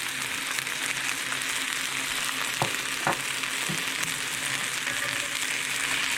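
Chicken seasoned with garlic, onion powder and cayenne sizzles steadily in a pan, a constant hiss of frying broken by a few soft clinks of a utensil stirring, with no voices.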